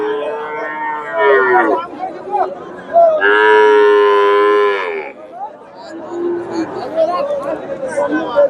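A young Friesian calf at the Dakumara cattle market in Bogura gives one long, loud, close moo lasting about two seconds, with people talking before and after it.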